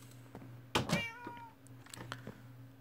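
Cats in the Minecraft video game meow, one clear drawn-out meow followed by a couple of softer, shorter mews over a low steady game hum, with no talk.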